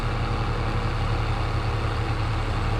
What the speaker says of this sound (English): you just need earmuffs in this to speak above the engine. Wow, it's loud.